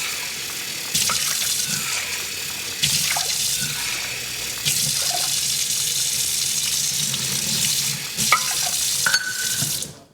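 Tap water runs steadily into a pot for cooking quinoa, a continuous splashing hiss broken by a few brief pauses and shifts in the flow, close and fairly loud, with no voices.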